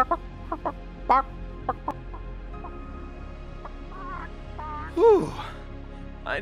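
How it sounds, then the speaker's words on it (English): Chickens cluck in a series of short, separate calls with a louder squawk near the end, set in an animated game trailer scene and heard fairly close against a quiet background. "I never thought I'd be so happy to see chickens"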